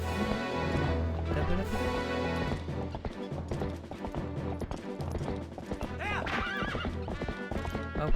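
Epona, the horse in Zelda Twilight Princess, gallops with rapid clip-clop hooves and lets out loud whinnies over steady game music, no talking.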